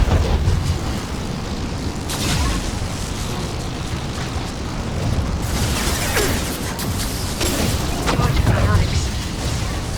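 Flashbang grenades go off in a Mass Effect 2 firefight in the Lair of the Shadow Broker DLC: dense, booming bursts land twice amid continuous combat noise and game voices.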